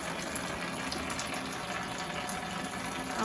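Water pumped out of a flooded house attic pours steadily into a trash can, a continuous close rushing gush with no break over a few seconds.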